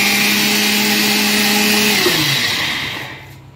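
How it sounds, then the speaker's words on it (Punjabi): A mixer grinder loaded with moong dal runs with a loud, steady whirring drone, then winds down and fades toward silence in the final second. "ਮਿਕਸੀ ਆਪਾਂ ਹੋਰ ਚਲਾਵਾਂਗੇ"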